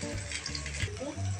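Rice being fried in a wok, a soft, fairly faint sizzle with a few low scraping stirs, brief and without clear speech.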